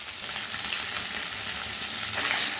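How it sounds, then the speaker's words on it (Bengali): Pieces of snakehead (shol) fish fry in hot oil in a pan, giving off a constant, close crackling sizzle with faint stirring noises and no talk. "পুরো মাছগুলো আমার ভাজা হয়ে গেছে।"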